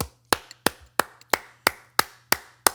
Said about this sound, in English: Clap it up, folks.